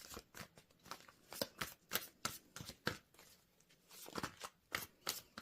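A deck of tarot cards being shuffled by hand at close range, quiet rhythmic riffling and snapping bursts repeating every fraction of a second with short pauses between them.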